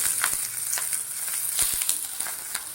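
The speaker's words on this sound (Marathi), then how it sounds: "मिरच्या भाजल्यानंतरनं लसूण टाकणार आहोत आणि जिरे आणि एकच चमचा तेल टाकणार आहोत सगळं भाजून घेऊन" Green chilies, garlic and cumin roasting in a little oil in a pan over low heat, a steady close sizzle with scattered sharp crackles and pops.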